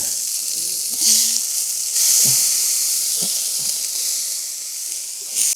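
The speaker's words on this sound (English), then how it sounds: "we'll flip it and let it sizzle for another 2 minutes maybe" Cheeseburger patty and onions on a grill give off a loud, steady hissing sizzle, swelling briefly in a few spots with faint scrapes, no talking.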